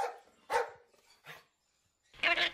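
A dog in a French children's audio story gives a few short barks, spaced apart with quiet gaps and heard close and clear, alone without speech.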